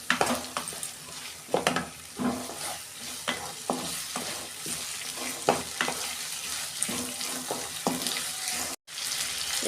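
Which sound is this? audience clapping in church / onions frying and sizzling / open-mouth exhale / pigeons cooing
onions frying and sizzling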